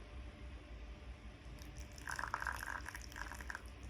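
Water poured out from the bottom of a container holding moss, a quiet trickling splash that starts partway through over a soft background hiss.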